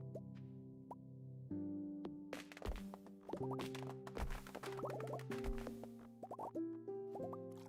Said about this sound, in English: Why do you hear water? It was the game.